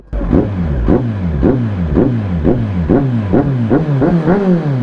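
A Kawasaki Z900 superbike engine revved hard with the throttle, about nine loud, close, rapid rising-and-falling revs in a steady rhythm.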